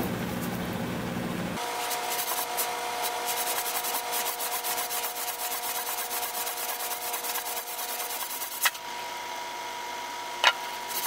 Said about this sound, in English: So I'll just go sand this thing a little bit more